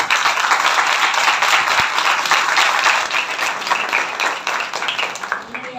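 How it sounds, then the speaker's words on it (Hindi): A church congregation at a Christian sermon breaks into loud, sustained applause and clapping, a dense wash of hands that holds steady for several seconds before tapering slightly, with some voices mixed in. "जोरदार ताली बजाएं।"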